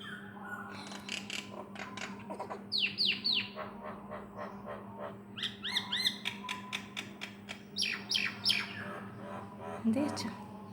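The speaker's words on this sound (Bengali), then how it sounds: "শুনছি পাখি ডাকছে" Common mynas call from nearby in repeated bursts of sharp, chattering whistles and squawks, with brief gaps between flurries over a low steady hum.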